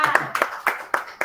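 Claps during a Spanish-language discussion session, offered as thanks to the guest: about five sharp, evenly spaced hand claps in quick succession, close and distinct rather than a full crowd.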